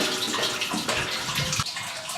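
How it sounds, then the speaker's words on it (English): Water runs steadily into a 15.5 gallon Sankey keg serving as a hot water tank for all-grain home brewing, a continuous close, full rush with a few sloshing surges, no voices. "go ahead and fill up our hot water tank"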